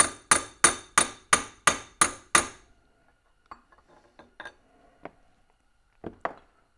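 A center punch struck with a hammer to peen the metal button of an Amberola V phonograph spring barrel: seven sharp, evenly spaced metallic taps in quick succession, then a few softer, scattered clinks.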